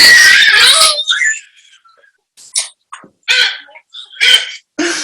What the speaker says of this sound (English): With that scream, that scream of terror.